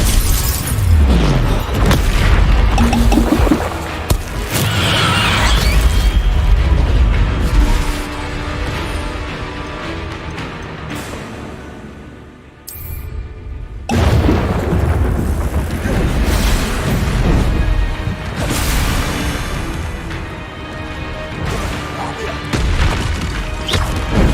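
The Confringo explosive spell in the Hogwarts Legacy video game, loud crashing blasts and shattering booms in heavy combat, with a brief lull midway before the explosions resume and voices call out spells.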